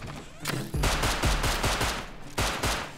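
Rapid gunfire in the survival shooter Rust, a dense burst of loud close shots followed by a second quick volley, with no voices.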